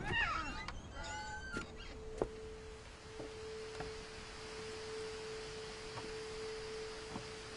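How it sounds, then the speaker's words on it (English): A cat meows outdoors in the game What Remains of Edith Finch, a few short faint calls at the start over a steady quiet hum and sparse soft clicks. "Did I just hear a cat outside?"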